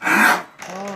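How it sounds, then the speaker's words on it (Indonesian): A grown cow coughing nearby in Blora, Indonesia: a harsh, breathy burst followed by a shorter, hoarse, groaning exhale. "sapinya batuk, guys."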